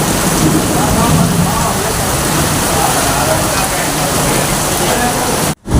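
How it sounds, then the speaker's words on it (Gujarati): Heavy rain pours down during a thunderstorm with lightning, a loud, dense, steady roar close by that cuts out abruptly near the end. "ગજબની ભાઈ વીજળી ને ગજબનો ભાઈ વરસાદ આવે છે"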